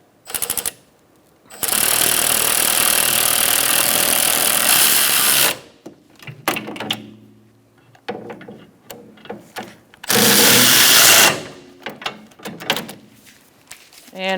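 A power tool drives in the rear brake caliper bolts on a 2012–2018 Ford Focus in two loud, sustained whirring bursts. Quieter clinks and handling noises fill the gaps between them.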